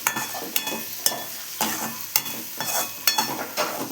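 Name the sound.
stirring cashew gathiya curry in a pan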